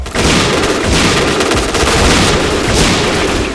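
Rapid automatic gunfire in the Point Blank shooter game, dense bursts of shots fired close and loud, crackling almost without a break for a few seconds.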